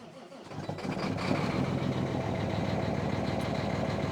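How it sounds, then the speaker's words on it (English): A Peterbilt 379 truck's diesel engine cold starting: a short crank, then the engine catches and settles into a loud, steady rumbling idle, close by with no talking. "let's give her a cold start"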